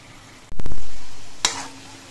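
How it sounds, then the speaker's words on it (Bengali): Chhana (cottage cheese) balls hit hot frying oil with a sudden loud sizzle that slowly fades, and a brief sharp click follows partway through. "আবার বাকি বলগুলো ভেজে নিচ্ছি।"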